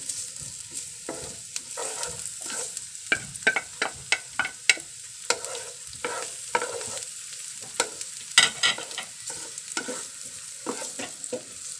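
Garlic sizzles in a hot pan for a Filipino ginataang malunggay dish, with repeated quick scraping stir strokes of a utensil against the pan over a soft, steady frying hiss.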